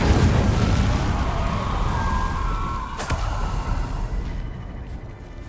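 Confringo fire spell explosions in Hogwarts Legacy combat: a dense, loud, continuous barrage of blasts and bursts with one sharp crack about midway, gradually thinning toward the end.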